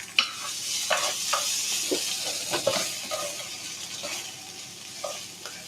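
Burgers sizzle in a frying pan, a steady hiss with scattered crackles as they are stirred and pushed across the pan, close and moderately loud, with no talking.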